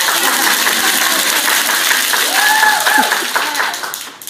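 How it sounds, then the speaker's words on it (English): An audience at a business testimonial event breaks into sustained applause, a dense, loud patter of many hands that runs steadily before tapering off at the end. "You can clap."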